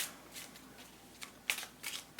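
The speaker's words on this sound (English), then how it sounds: "I'm going to continue shuffling them a little bit more on camera" Tarot deck shuffled by hand, a series of soft papery riffles and slides with a few sharper snaps of cards striking together, close and quiet with no speech.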